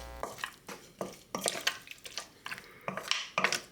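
Pork ribs get stirred with cooking wine, oyster sauce and fried hot chili sauce in a container, giving a run of wet, sticky squelches and light clinks in an irregular rhythm, close and fairly quiet.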